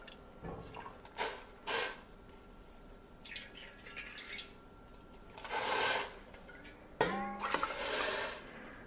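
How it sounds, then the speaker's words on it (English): Straining bags of tomatoes are lowered into hot liquid in a pot for tomato wine, with soft splashes, drips and sloshing coming in separate bursts, fairly quiet and close, with no talking. "let's go ahead and drop in our straining bags of tomatoes."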